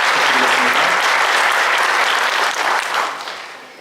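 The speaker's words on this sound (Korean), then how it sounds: "우리 장관님께 큰 박수 다시 한번 부탁드리겠습니다" A Korean audience at an urban and cultural regeneration event gives the minister a big round of applause, loud dense clapping that holds steady, then tapers off over the last second.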